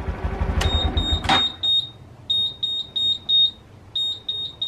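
A Honda Super Cub C125 switched off without its key gives a series of sharp, evenly spaced electronic beeps, close and clear, following a brief mechanical clunk as the engine stops.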